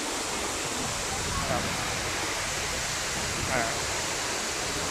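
Khlong Lan waterfall in Kamphaeng Phet, Thailand, roars with a dense, unbroken rush of falling water, loud and close throughout.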